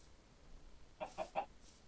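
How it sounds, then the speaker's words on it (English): Chickens clucking in the Minecraft video game, three quick, close clucks in a short burst after a quiet stretch, with no talk over them. "Ooh, chickens."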